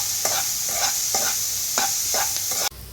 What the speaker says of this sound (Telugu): అన్నీ కాస్త ఫ్రై అయ్యి ఆనియన్స్ గోల్డెన్ కలర్ వచ్చే వరకు ఫ్రై చేసుకోవాలండి